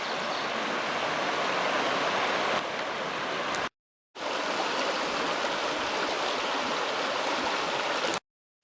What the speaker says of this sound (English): getting to walk along Scotts Creek.